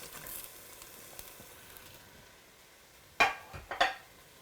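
A spice mass and fresh tomato fry in oil in a pan, giving a soft, steady sizzle, then two louder sharp scrapes of stirring close by near the end.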